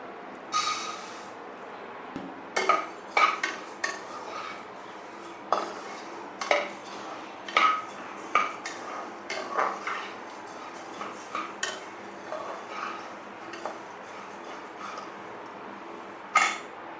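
Fenugreek and cumin seeds dry roasting in a pan, heard as irregular close clinks and scrapes of a metal spoon stirring against the pan, with no talking.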